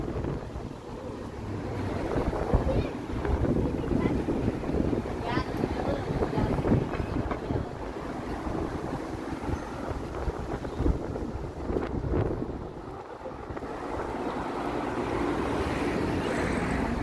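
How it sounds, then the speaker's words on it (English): Strong wind buffets the microphone on the Toronto waterfront, a continuous rough roar with gusts that holds steady throughout, with faint voices underneath. "Whoa, holy wind."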